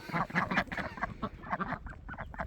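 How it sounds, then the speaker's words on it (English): A pet goose honks in a quick series of close, nasal calls with short gaps between them. No one speaks. "My goose, he's getting so big."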